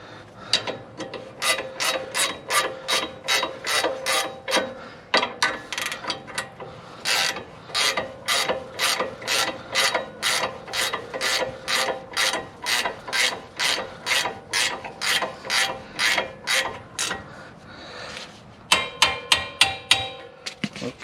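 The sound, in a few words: tightening brake bolts on Dodge Ram 2500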